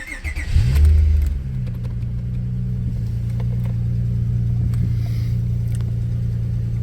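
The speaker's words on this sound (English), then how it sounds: "Let's do a little cold start real quick." An Acura TL fitted with an HPS cold air intake cold-starts: a brief cranking whir, a loud catch and rev flare, then a steady elevated high idle droning on alone.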